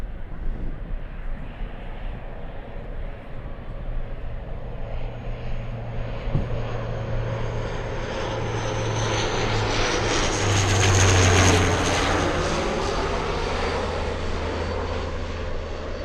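A fixed-wing airplane passes over an Anchorage airport while spotters watch at sunset; a steady engine drone builds to a loud peak near the middle of the pass and then slowly fades as it goes away.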